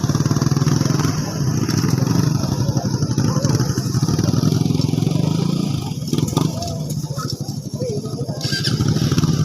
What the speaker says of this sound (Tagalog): Naghalas yung motor.